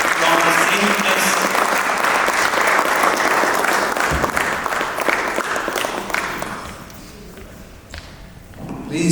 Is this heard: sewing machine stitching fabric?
no